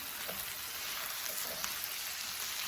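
Cheese dip with Rotel tomatoes sizzles steadily in a pan, with soft scraping stir strokes breaking through now and then over a continuous hiss and crackle of melting cheese.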